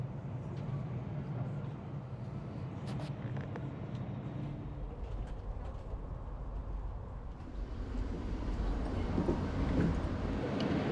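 A Renfe Avant high-speed train pulls into Córdoba station, giving a steady low rumble of wheels and running gear that grows slightly louder toward the end, with a few faint clanks and no talking.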